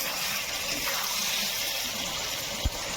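Hot water pours steadily into chicken curry in a home kitchen, a continuous close gushing splash with a small knock near the end.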